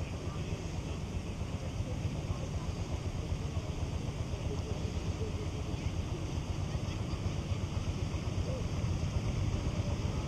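A motorboat runs steadily on a cave lake at Động Puông in Ba Bể, its engine a constant low rumble with water noise, holding close and loud throughout.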